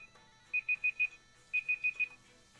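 Two bursts of four quick electronic alarm-clock beeps each, high-pitched and evenly spaced with a short pause between the groups, sounding moderately loud over a faint background hum.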